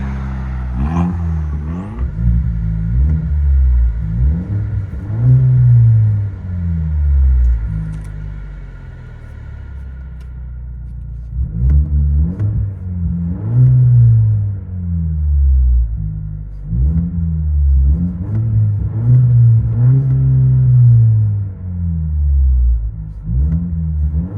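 Inside the cab of a 2023 Chevy Silverado with a 2.7L turbo, straight pipes, and muffler and resonator deletes, the exhaust booms through a series of repeated revs that climb and fall over a droning idle.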